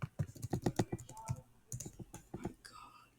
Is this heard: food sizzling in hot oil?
no